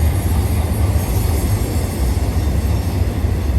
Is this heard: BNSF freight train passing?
yes